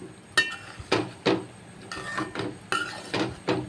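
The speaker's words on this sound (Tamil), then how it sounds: "நல்லா மிக்ஸ் பண்ணி விடுங்க." Honey-coated baby corn is stirred in a pan, with a series of close metallic scrapes and clinks of a utensil against the pan at an uneven rhythm, alone without talk.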